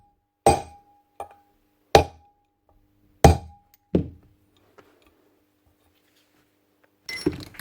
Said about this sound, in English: I'm just going to give it a wee ding with a hammer